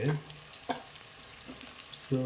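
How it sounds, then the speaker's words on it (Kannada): Onions frying in a pan, a soft sizzle under a few scraping stirs and utensil taps, one near the start, one mid-way and one at the end, quiet and close with no talking. "ಈರುಳ್ಳಿ ಫ್ರೈ ಆಗಿದೆ"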